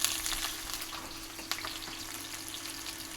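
Chopped onions sizzle and crackle in hot oil in a pan, a steady frying hiss with small pops throughout, close up and with no talking.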